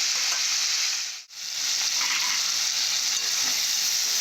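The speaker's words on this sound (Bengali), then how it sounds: "এর সাহায্যে ভালোভাবে আমি কষে নেব সবজি মশলা দিয়ে" Vegetables and spices sauté in a pot with a loud, dense, continuous sizzle that cuts out for a brief moment before the steady frying hiss resumes.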